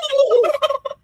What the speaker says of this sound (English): What is that, a goose?